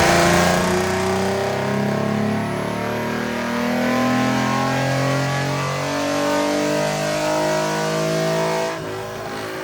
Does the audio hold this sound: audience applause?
no